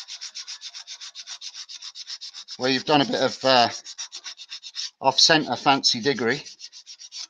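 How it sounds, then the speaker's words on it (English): A wood-turned piece sanded on a running lathe, giving a rapid rhythmic rasping with regular pulses, close and clear, that continues while someone talks over it in short bursts. "I do very little sanding, but on a piece like this"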